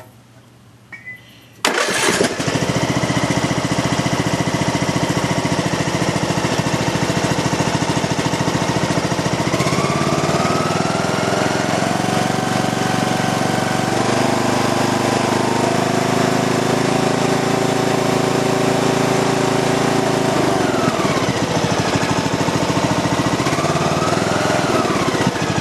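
A Craftsman LT2000 lawn tractor engine catches after a brief quiet moment and then runs steadily and loudly close by, a continuous mechanical drone with small shifts in pitch throughout.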